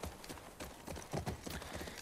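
A horse's hooves clop in a faint, quick irregular rhythm in the video game The Last of Us Part II, soft and close, alone without talk.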